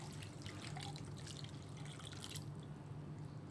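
Water splashing and trickling as papaya is rinsed by hand in lukewarm water, a steady close wash of liquid sound over a low background hum.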